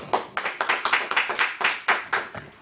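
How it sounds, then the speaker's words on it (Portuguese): A church congregation claps together in a brisk, slightly uneven burst of sharp hand claps, about a dozen distinct strikes over a couple of seconds, close and fairly loud with no voices. "Dá um aplauso para Jesus."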